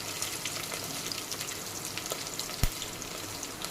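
Chopped onions and green chillies frying in a pan for gongura pulusu give a soft, steady sizzle, with one sharp clink of a utensil partway through.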